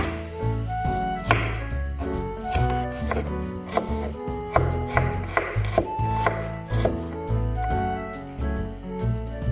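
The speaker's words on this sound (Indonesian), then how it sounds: "Untuk bahan-bahannya kita potong-potong ya. Bawang merah," A knife chops shallots on a board in quick, steady taps over background music.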